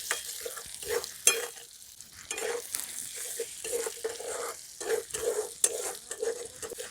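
Sliced onions sizzle with salt in a pan while a spoon stirs them, giving a soft frying hiss broken by repeated scraping strokes at an uneven rhythm.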